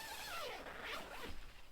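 A zipper drawn steadily around the inner tent of a OneTigris Coco Nest shelter, one continuous close rasping pull lasting under two seconds, with no voices.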